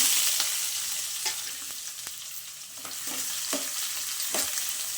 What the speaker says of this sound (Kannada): ಆಯಿಲ್ ಕಾದಿದ್ದು ಸಾಸಿವೆ ಸೇರಿಸ್ಕೊತ ಇದ್ದೀನಿ ಸ್ವಲ್ಪ ಜೀರಿಗೆ ಈರುಳ್ಳಿ ಸೇರಿಸ್ಕೊತ